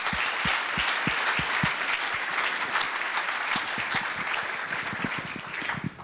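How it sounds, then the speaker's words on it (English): Full, sustained audience applause at a fundraiser gala, a broad wash of clapping with a few nearby claps standing out, tapering slightly at the end. "please give yourselves a round of applause"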